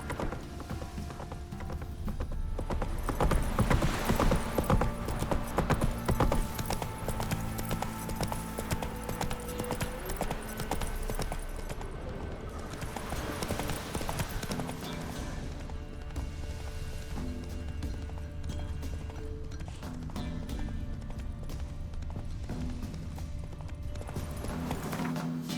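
Horse hooves clip-clop steadily at a gallop in The Witcher 3: Wild Hunt on PS5 Pro, a loud, continuous rhythmic run lasting throughout over game ambience.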